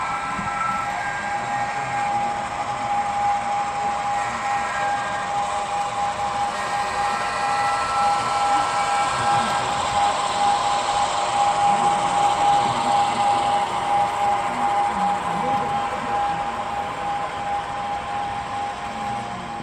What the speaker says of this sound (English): So that was actually Kevin's train that just passed